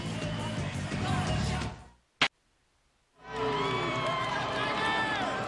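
A packed crowd of LSU fans roars and cheers inside the Maravich Assembly Center during a women's gymnastics meet against Alabama, a dense, loud wash of voices that cuts out abruptly and then resumes.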